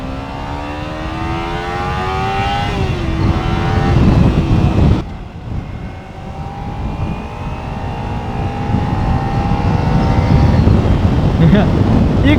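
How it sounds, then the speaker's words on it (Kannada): A Kawasaki Ninja 300 parallel-twin motorcycle is being ridden. The engine hums and rises in pitch as it accelerates, then drops briefly at a gear change and climbs again, with wind rush throughout and a rider talking over it. "ಈ ಗಾಡಿ ಟ್ವಿನ್ ಸಿಲಿಂಡರ್ ಅಂತ."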